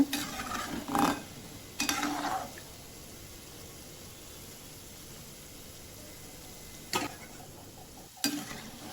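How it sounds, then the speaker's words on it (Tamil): Gulab jamun balls frying in hot oil, a steady low sizzle with a few louder bursts of stirring or spoon clatter near the start and end, with no voices. "இது நல்லா கோல்டன் ப்ரௌன் கலரில் வர வரைக்கும் நல்லா ஃப்ரை பண்ணி எடுத்துக்கோங்க"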